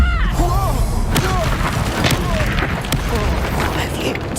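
Reducto spell blasts in a Harry Potter video game, heavy booming thumps amid dense combat noise, with character voices talking over them.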